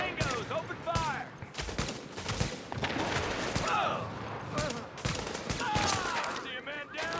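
Rapid bursts of automatic gunfire crackle throughout a shooter video game firefight, dense and loud, with a voice talking over the shots.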